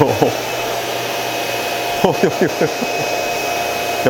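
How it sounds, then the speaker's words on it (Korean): A Roborock S8 Pro Ultra robot vacuum dock empties its dust bin with a loud, steady suction roar, broken midway by a few short chirping sounds. "먼지통 비우기 먼지통 비우면 소음이 많이 발생한다"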